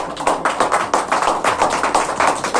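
Audience applause for a guru, Piranand Maharaj, at a religious gathering: dense, steady clapping from a crowd, loud and continuous with rhythmic pulses, no voices.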